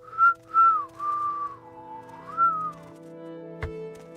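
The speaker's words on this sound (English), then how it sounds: "You can hear also all the variants of whistling." A character in the video game Morrowind whistles a short, clear melodic phrase of a few sliding notes, fairly close and alone, followed by a brief sharp click.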